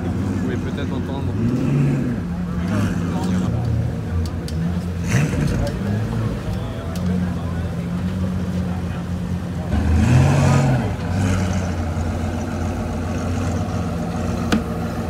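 Several Pagani Huayra BC supercars arrive together at a car gathering, one fitted with a modified exhaust, their engines droning and rising in pitch steadily throughout, with a louder surge near the end, amid crowd chatter.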